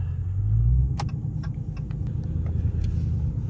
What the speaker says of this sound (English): if I just hit the gas and it goes to like 2-3 RPMs, it'll pop by itself